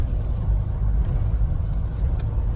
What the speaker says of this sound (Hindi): सारा ट्रैफिक रॉन्ग साइड आ रखा है